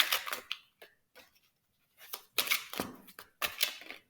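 A large deck of tarot cards is shuffled up close in several quick riffling bursts separated by short pauses, crisp and papery but fairly soft.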